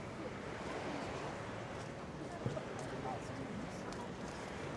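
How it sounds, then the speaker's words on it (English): Gentle sea waves washing ashore on an evening beachfront in Palmanova, Mallorca, with a light breeze: a faint, steady wash of surf and soft wind noise, distant and even throughout. "We've got the sound of the waves on the sea. Some gentle waves, a bit of a breeze"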